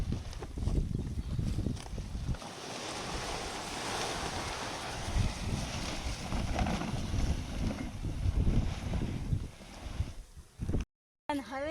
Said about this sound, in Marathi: हवेनं सगळे ताडपत्र्या होळल्या जातात भरकन